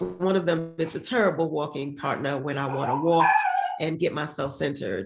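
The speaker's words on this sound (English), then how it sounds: "you might hear my dog right now" A dog yips and whimpers in short bursts close by, mixed in with steady, continuous talk from a woman who owns two dogs.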